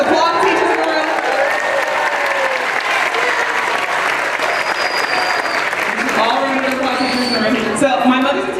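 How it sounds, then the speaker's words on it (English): An audience in a hall applauds teachers in the room with a loud, sustained burst of dense clapping that continues evenly throughout, close and full, with some crowd voices mixed in toward the end. "Let's applaud the teachers in the room"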